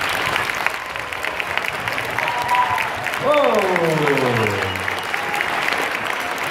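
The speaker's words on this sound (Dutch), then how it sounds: "Gaan wij nog even klappen, dat hoort er dan wel bij." Audience applause after a ballet performance rolls on steadily throughout, with a person's voice briefly exclaiming over the clapping partway through.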